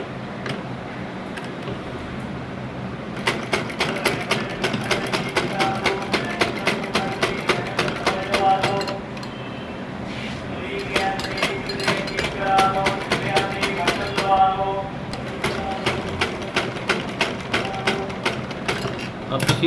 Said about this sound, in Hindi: अब इसी तरह बिल्कुल आराम सुकून से इसके नीचे नीचे सिलाई लगाते जाना है।